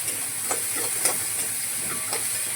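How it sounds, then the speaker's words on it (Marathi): Chopped onion sizzles steadily in a hot pan with a few soft scraping stirs, a constant frying hiss close up and no talking. "कांदा, छान असं मिक्स करून घेते"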